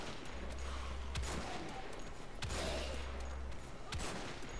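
A gun firing in Wolfenstein: The Old Blood, with a few quick, evenly spaced shots over a thick, steady background roar, fairly muffled and low in level.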